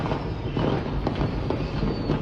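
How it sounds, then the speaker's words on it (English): A fireworks store in Florida explodes, heard as a played recording: a dense, continuous roar of bursts and crackling pops, loud and steady throughout, with no voices. "This is a fireworks store going up."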